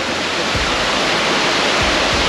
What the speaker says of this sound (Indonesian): ini adalah destinasi terakhir yaitu air terjun Hiu Kelep